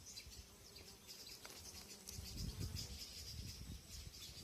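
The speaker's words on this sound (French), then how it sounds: "Voilà une mouche Goliath." A Goliath fly buzzes close by in the open, a soft continuous drone with faint insect and bird sounds around it and no talking.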